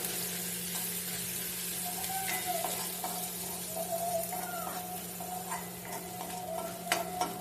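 Freshly pounded ginger and garlic paste for a Malvani egg curry sautés in a pan with a steady low sizzle, joined by a spatula scraping and clinking against the metal now and then, close up and with no talking.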